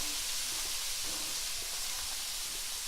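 Shrimp sizzle in butter in the same pan that cooked steaks for a Cajun surf and turf. The hiss is steady and close, with no talking.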